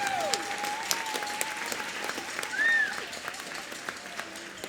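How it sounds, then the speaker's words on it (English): A middle school audience applauds at a popular music concert, a steady wash of clapping heard from within the crowd, with a few brief whistles or cheers rising above it and no clear talk. "How about another round of applause for Hallie Parks and Caden Hargis?"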